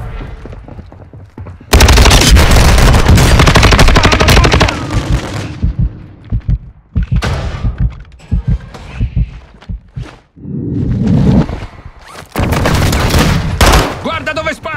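Rapid bursts of gunfire crackle in loud volleys in the video game Warzone 2.0, broken by brief pauses, with game sound effects layered underneath.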